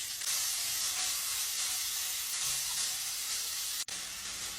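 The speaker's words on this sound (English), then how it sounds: "Just gonna add all the onions and green chilies." Onions and green chilies hit hot oil with golden-browned garlic, giving a loud, continuous sizzling hiss that holds steady throughout and ends with a brief dip.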